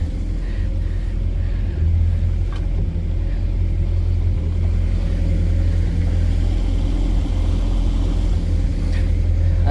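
A small outboard engine on an inexpensive project boat, hard to start and suspected of needing a carburetor rebuild, rumbles steadily and loudly at close range throughout, with no clear cranking or catch.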